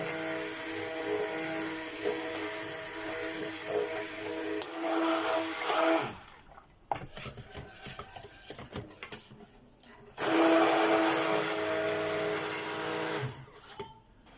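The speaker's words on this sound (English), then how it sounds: "Blend this together." A stick blender whirs through turmeric powder and soap ingredients, running in two loud high-pitched bursts of several seconds each with quieter clatter and handling noise between them.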